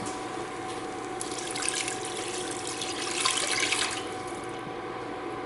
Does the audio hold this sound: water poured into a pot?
yes